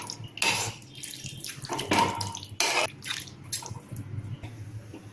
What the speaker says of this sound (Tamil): தண்ணி ஊற்றிட்டு ஒரு தடவை மிக்ஸ் பண்ணிடுவேன்.